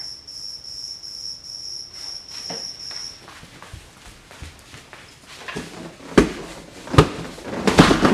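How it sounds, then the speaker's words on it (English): A cricket chirps in the corner of a garage, its thin high trill steady early on before fading, followed by louder clattering knocks and bumps nearby. "There's a cricket in the corner."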